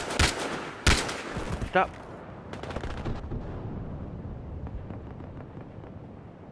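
Gunfire in Battlefield Hardline team deathmatch: a few sharp, loud shots up front, then a rapid rattling burst, fading into quieter scattered pops and ambient game noise while a voice briefly speaks.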